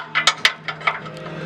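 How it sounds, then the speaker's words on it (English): A 7/8 open-ended wrench snugging an oxygen sensor on a 1994 Subaru Legacy, making a quick series of about six light metallic clicks in an uneven rhythm, close and clear. "Now I'm going to use my 7/8 wrench, open-ended wrench."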